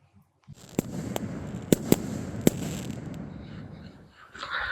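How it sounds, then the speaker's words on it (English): Backyard fireworks set off by rednecks, sounding as a series of sharp bangs and pops of varying loudness over a steady crackling hiss, with several louder reports spaced irregularly across the burst. "shoot as many fireworks as possible"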